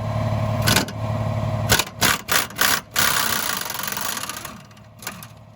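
An impact wrench with an 18 mm socket on a 12-inch extension spins out the upper strut bolts on a 2007-2014 GMC Yukon XL Denali, giving several loud, close rattling bursts over a steady engine-like hum.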